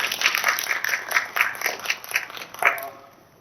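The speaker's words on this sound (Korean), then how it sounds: "잠깐 박수 치실까요?" An audience claps through a school admissions briefing at Guri High School, a dense patter of many hands for about three seconds with one stronger burst near the end before it fades out.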